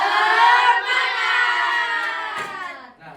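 Elementary school class in Indonesia performing a group chant, voices of many children shouting together loudly and steadily for about three seconds, with no distinct clap pattern standing out.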